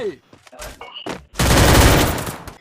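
Loud gunfire in the video game Free Fire: a few brief separate shots and sounds, then a dense, sustained burst of rapid automatic fire lasting about a second, close and harsh.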